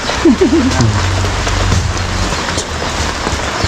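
Steady rainfall hisses throughout, with a low rumble of thunder underneath and a brief voice near the start.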